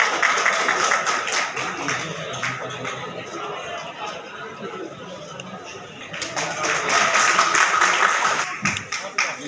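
Applause from an audience welcoming guests at a Dr. Ambedkar Bar Association event in Agra, a steady patter of many hands clapping with crowd chatter, swelling again toward the end.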